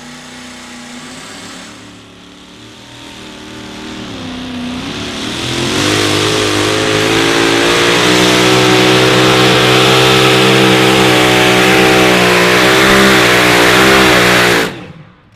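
Blown, methanol-burning engine of a two-wheel-drive outlaw pulling truck revs hard, building from a rough mid-level roar to a sustained, loud, rising howl that holds for several seconds before cutting off abruptly.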